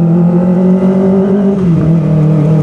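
A Kawasaki ZX-25R limited edition motorcycle engine revs hard past 4000 RPM, a loud, close, high-pitched buzzing whine that holds steady, dips briefly, then climbs again with no speech.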